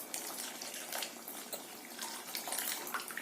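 Water added to a pan of chana dal and potato curry, a faint, uneven splashing pour with small bursts and trickles, recorded at low level.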